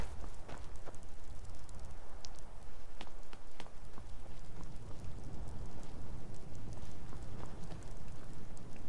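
Soft, steady clip-clop of horse hooves in the game Skyrim, a continuous trotting rhythm over a faint ambient bed.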